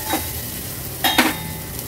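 Turmeric is stirred into a sizzling tempering in a pan at home over a raised flame, with a soft steady frying hiss and a few brief scraping stirs partway through.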